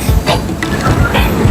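Crowded Chitra Express passenger train pulling out of Chuadanga railway station, a loud close rumble with rhythmic wheel clatter heard from inside a carriage.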